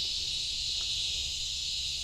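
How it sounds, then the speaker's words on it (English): A steady, high-pitched drone of cicadas in trees at Tyrrell Park in Beaumont, Texas fills the air continuously, unbroken and even, with faint low background rumble beneath. "can hear all the cicadas up in here"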